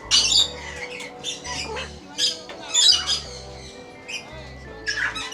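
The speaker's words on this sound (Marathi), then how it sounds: "वा लाल पोपट." A red parrot at Nisargadhama Reserve in Coorg gives sharp, shrill squawks in bursts close by, while people nearby talk and laugh.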